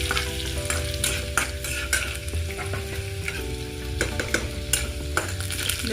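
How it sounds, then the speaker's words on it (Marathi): Garlic is added to curry leaves already roasted in oil in a pan for dahi mirchi, and it fries with a steady close sizzle while a utensil stirs and scrapes at intervals. "कढीपत्ता चांगला भाजून झालेला आहे. त्याच्यात घालायचं आहे लसूण"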